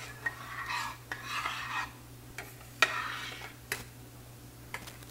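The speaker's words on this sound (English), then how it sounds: "In the meantime, I'll stir my sauce." A spoon stirs thick homemade spaghetti sauce in a pot, giving soft scraping swirls broken by several sharp clicks against the pot, close and quiet over a steady low hum.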